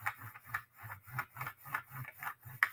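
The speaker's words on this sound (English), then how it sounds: "lay your paper on top of one of these textures and then use your oil pastel side on, not pointy end, but flat end on" Oil pastel is rubbed flat-side over paper laid on a textured surface, giving a close, rhythmic rasping scrub of about ten even back-and-forth strokes.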